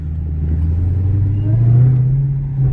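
A Dodge Challenger Hellcat engine revs close by with a deep, steady rumble that swells and climbs in pitch midway, then holds strong without any talking over it.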